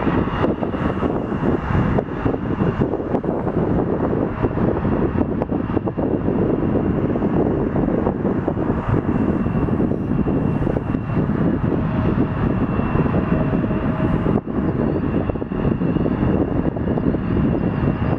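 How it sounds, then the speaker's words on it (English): An Embraer 175 jet at Toronto Pearson airport roars loudly and continuously, a broad engine rush mixed with heavy wind buffeting on the microphone, holding steady for the whole stretch. "Going to JFK on an Embraer 175."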